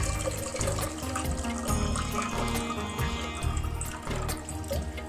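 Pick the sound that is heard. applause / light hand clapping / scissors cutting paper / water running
water running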